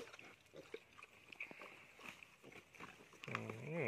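A wild boar crunches and gnaws on a hard coconut shell, giving faint, irregular cracking and chewing sounds with a few snuffles, and a louder grunt near the end.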